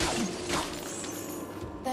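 An ice wall shatters under sharp blows in the video game Dungeon Siege III, a brief crash with a swooshing tail, fairly quiet and heard alone.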